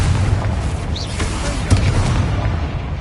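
Confringo fire spell explosion in the video game Hogwarts Legacy, a loud, dense, continuous rumbling boom with no clear single blast, no voices.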